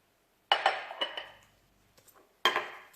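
Metal clinks sharply against a small bowl as lemon juice and other ingredients are mixed, in two short bursts of rattling strokes separated by a quiet pause, close and clear.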